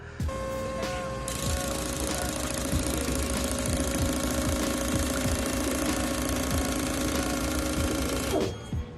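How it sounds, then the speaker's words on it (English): A small fuel injector cleaning machine runs with a rapid mechanical clatter and steady whine, close and loud, then cuts off near the end. "We also cleaned the injectors with this little machine."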